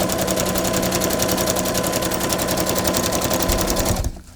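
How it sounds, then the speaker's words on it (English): A home sewing machine runs a fast, steady stitch along a fabric face mask, its close, even rattle going for about four seconds before stopping abruptly. "you're gonna sew in one more time, just very vertically like this"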